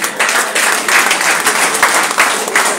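A church congregation at a Sunday service applauding loudly, with dense, sustained clapping from many hands filling the room throughout.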